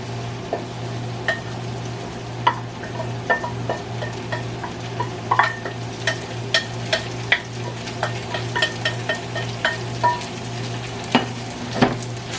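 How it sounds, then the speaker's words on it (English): Cooked linguine being stirred into a thickened shrimp scampi sauce in a pan, with a low steady sizzle broken by repeated clicks and scrapes of a utensil against the pan. "let's stir in the pasta"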